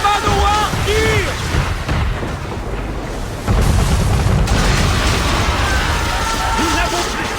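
Cannon fire booms from a manor in an Assassin's Creed video game, with heavy blasts and rumbling impacts mixed under battle noise and shouting voices.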